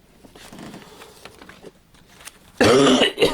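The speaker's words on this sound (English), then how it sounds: "Oh, sorry for the coughing." A single close, loud cough bursts out near the end after a stretch of quiet background rustling, with no talking.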